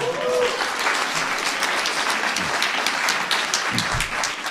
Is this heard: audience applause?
yes